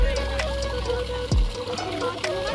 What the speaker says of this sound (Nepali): पानी रुखबाट निक्लेको पानीहरूबाट निस्किरहेको पानी है